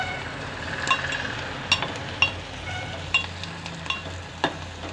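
Cut okra with jaggery fries in a pan, giving a steady close sizzle broken by occasional spoon scrapes and taps as it is stirred. No one talks.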